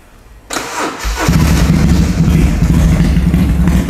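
A BMW R nineT motorcycle engine converted from fuel injection to carburetors, fitted with a free-flow exhaust, cranks and fires up after a brief quiet moment, then settles into a loud, steady, close idle.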